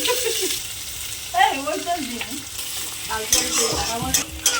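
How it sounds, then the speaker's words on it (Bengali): Onions frying in oil in a wok for tarka: a close, continuous sizzle with scraping stirs, and a voice is briefly heard over it. "কড়া বসিয়ে দিয়েছি পেঁয়াজ তেল দিলাম"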